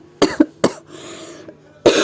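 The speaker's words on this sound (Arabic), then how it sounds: "انا كحيت كح في الفيديو ده" Four sharp coughs close by, set off by chili pepper fumes while making harissa: two quick ones, a third after a brief pause, then a raspy breath before a final cough.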